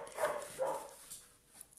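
A dog gives two muffled barks close together, then a fainter yelp, indoors and somewhat distant, with no talk over it.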